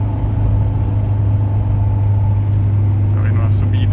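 A Chevrolet Vectra's engine held at full throttle in fifth gear as it starts up a hill, a loud steady droning hum from inside the cabin, with someone talking over it.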